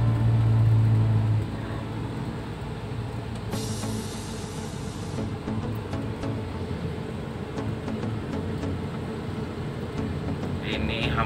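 A tuned Daihatsu Terios with a Blackcore tune drives along a busy evening road, heard as a steady, fairly quiet engine and road drone from inside the car, with a brief hiss partway through.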